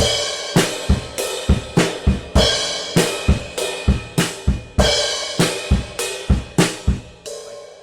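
Drum kit playing the bridge pattern, the same groove as the chorus: sharp, punchy hits in a steady driving rhythm with bright cymbal wash throughout, close and loud with no voices.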